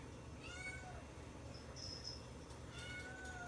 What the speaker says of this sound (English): you probably heard the kitty in the background